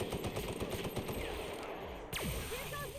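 Rapid bursts of gunfire in the video game The Outer Worlds crackle and thump in quick succession, with a swooping effect near the end and sound continuing throughout.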